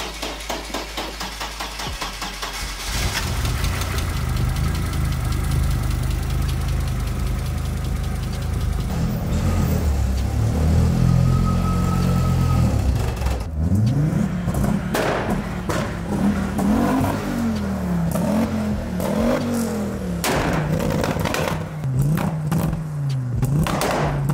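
A turbocharged car engine cranks and catches, then settles into a loud, close idle. Later it is revved repeatedly in a wavering rhythm of rises and falls, with no one talking.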